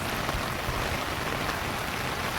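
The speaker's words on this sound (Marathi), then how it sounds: "पाऊस परत आला आहे" Steady rain falls in Navi Mumbai, a dense, even hiss of drops striking surfaces that continues without pause for the whole stretch, fairly loud and close with no voices.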